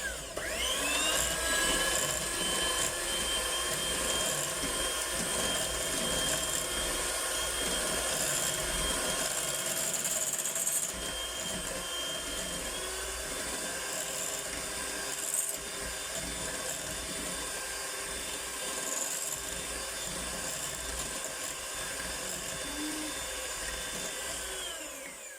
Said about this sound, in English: You can use your whisk at home, but I've got this electric beater,